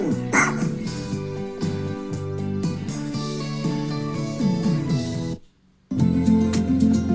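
A dog barks and yips repeatedly over a musical bed at a dog boarding campground, loud and close, with a short pause near the end.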